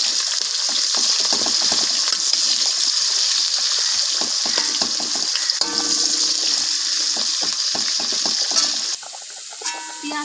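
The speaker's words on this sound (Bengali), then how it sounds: "এবার পেঁয়াজ দিয়ে দিলাম। পেঁয়াজটা লাল করে ভাজতে হবে।" Onions fry in hot oil with whole garam masala and bay leaves for biryani, giving a loud, continuous close-up sizzle with crackling pops throughout.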